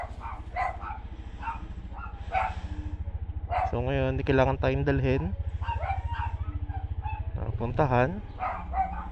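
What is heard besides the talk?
dog barking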